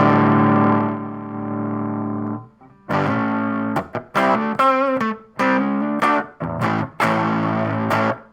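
A high-gain distorted electric guitar through an amp with the gain turned up and volume down, loud and close: a sustained crunchy chord fades, then choppy bursts of riffing and single notes stop and start.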